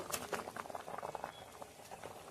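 Bora fritters slide into a pot of simmering cardamom-flavoured liquid for a vegetarian puja dish, giving a soft continuous bubbling and light pattering close by, steady throughout with no voices.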